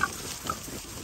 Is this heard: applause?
no